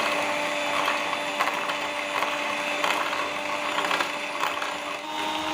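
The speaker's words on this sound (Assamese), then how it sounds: "এতিয়া মই এইখিনি মিক্সাৰ মেচিনেদি হুইপ ক্ৰীমৰ নিচিনা বনাই লম।" An electric hand mixer whips instant coffee with sugar and water toward a cream-like froth at home, producing a continuous steady motor whine with a faint rattling, loud and close, with no talking.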